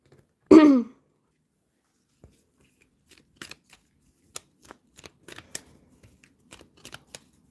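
Tarot cards make a short crisp riffle, then a series of sparse quiet taps and snaps follow as the deck is handled, all close and without talk.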